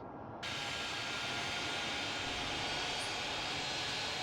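An ATR airliner approaches in Tower Sim 3, a broad, steady engine roar that swells in abruptly and holds loud and even.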